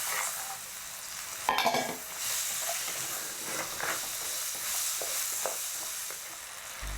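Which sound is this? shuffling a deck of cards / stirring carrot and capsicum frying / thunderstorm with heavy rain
stirring carrot and capsicum frying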